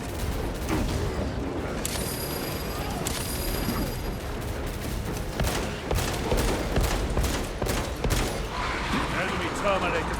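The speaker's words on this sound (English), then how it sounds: "Crack grenade." A crack grenade goes off in a Warhammer 40K video game amid dense, continuous gunfire and booming explosions, with a voice speaking over the battle.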